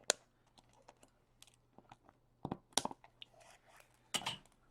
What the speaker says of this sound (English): We're going to cut the stems off of the zip tie.